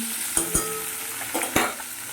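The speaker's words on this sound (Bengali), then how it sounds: "মাছ ভাজাটা বসিয়ে এবার একটু খেয়ে নিই" Fish frying in a pan gives off a steady broadband sizzle, with a few sharp clicks and utensil knocks scattered through it, fairly close and alone with no talk.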